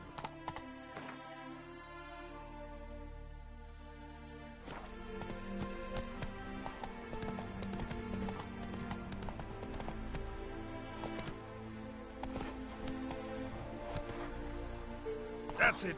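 Roach, the horse in The Witcher 3, clip-clops in a steady walking rhythm of hoof taps. The hooves play over game music, and a voice speaks now and then.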